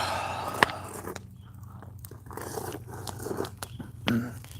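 A dog chews and bites nearby, with soft wet crunching and occasional sharp clicks against a quiet background.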